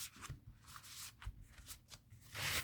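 Soft rhythmic riffling and flicking of a chunky Nova Witch tarot deck being side shuffled, close and quiet, repeated in quick bursts with a fuller rustle at the end.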